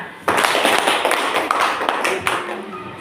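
A classroom group claps for a team of students, a dense burst of hand clapping that starts abruptly and continues steadily at moderate loudness, with some voices mixed in.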